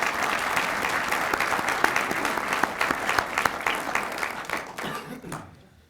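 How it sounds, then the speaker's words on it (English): Audience applause rises at a Reynoldsburg State of the City address honoring city staff, a loud sustained patter of many hands that fades away over the last second. "So I ask that we all give them, our city staff, a round of applause for everything that they do for all of us."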